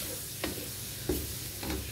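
A spoon stirring a macaroni mix in a pot, three distinct scraping strokes spaced about half a second apart over a soft sizzling background, close and moderately quiet.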